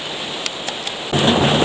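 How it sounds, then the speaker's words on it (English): Heavy rain pours outside as a steady hiss, with a few faint taps early on before the downpour suddenly swells louder near the end. "you can hear how loud the rain"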